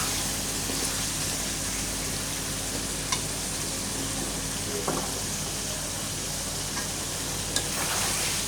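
Curry being sautéed in a pan over a low flame, a steady hiss and sizzle of frying with occasional soft clicks of stirring, close and continuous with no talk.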